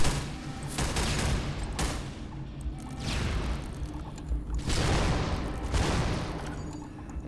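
Rapid gunfire rattles in the video game Hunt Down The Freeman. Dense bursts of shots swell and fade in several waves, loud and close, with no speech over them.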